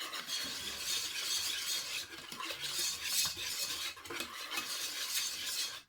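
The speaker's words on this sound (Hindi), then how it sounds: "इसको ऐसे अच्छी तरह मिक्स कर लेती हूँ" Potatoes with chillies and gratin spices are stirred and mixed in a pan, giving a steady, close scraping and rustling with a faint sizzle underneath, continuous with no talking.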